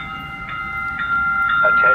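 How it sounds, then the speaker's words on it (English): A low-floor Sacramento light rail train on the Gold Line arriving at a platform, with a steady high whine and squealing tones over a growing rumble, fairly close. "A low floor train is arriving."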